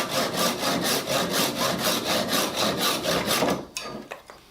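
A handsaw cuts off black wenge splines on a curved pine box, with steady rhythmic back-and-forth strokes, close and loud, before stopping near the end.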